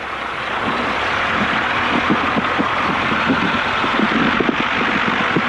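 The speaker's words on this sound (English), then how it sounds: "She's idling pretty rough." Small aircraft engine idling rough while taxiing, a loud steady drone with uneven, sputtering low pulses and irregular knocks running throughout.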